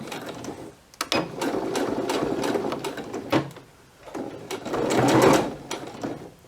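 Sewing machine stitching slowly across a zipper, its motor whirring in two sustained runs with a short pause between, close and fairly loud.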